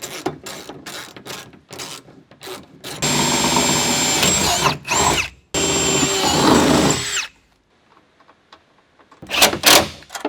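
Power drill tightening bolts on a rear-mounted start battery mount, with close, loud whirring bursts of several seconds mixed with rapid clicks, rattles and handling knocks, then a short pause and a final burst.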